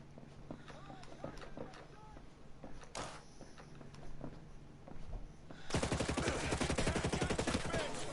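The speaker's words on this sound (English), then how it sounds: "Someone shooting us?" Rapid automatic gunfire in Ghost Recon Breakpoint, with scattered shots giving way to a loud, dense burst of sustained fire near the end, while someone talks over the opening.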